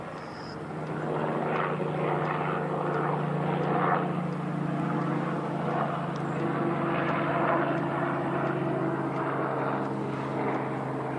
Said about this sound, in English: Jeez, it's like 2 helicopters came.